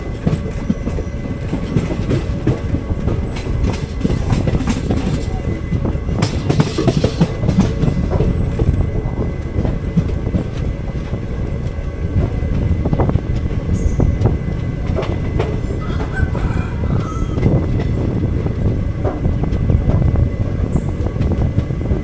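Riding aboard the 06061 Summer Special Express on the Ernakulam–Velankanni route, a loud, unbroken rumble of wheels on rails carries on with rhythmic clickety-clack and rattling carriage noise throughout.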